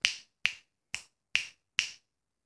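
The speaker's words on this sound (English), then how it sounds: "that is how you snap your fingers" Five sharp finger snaps ring out alone at an even pace, close and crisp, each a bright click with a quick decay into silence.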